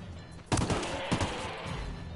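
Gunfire in Ghost Recon Wildlands, a single close, loud burst of shots that cracks out and then trails into a rough, noisy decay lasting under two seconds.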